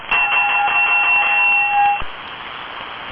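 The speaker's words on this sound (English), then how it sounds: "I just rang my bell and woke up half the neighborhood." A sustained electric bell rings loud and close for about two seconds, then cuts off to a steady lower hum before a brief new onset at the end.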